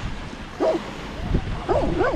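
A dog on a beach lets out a few short, high yips and whimpering barks at close range, spaced irregularly over steady outdoor background noise.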